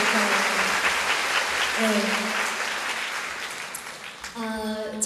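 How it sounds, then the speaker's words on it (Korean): Steady applause from a concert audience fills the hall during a live rock concert in Ilsan, clapping continuously as a voice briefly speaks over it in Korean near the end. "한 번 다시 박수를 드리도록 할게요"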